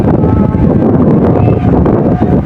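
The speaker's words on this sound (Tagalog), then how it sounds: "Kalakas ng hangin" Strong wind buffeting the microphone near a neighbourhood fire in Parañaque, a dense continuous roar without a break.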